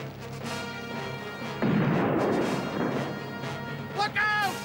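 Cannon fire from a ship striking a pirate ship's mast in an animated sea battle, a loud crashing burst that swells midway and lingers, with a sharp crack near the end and voices shouting over it.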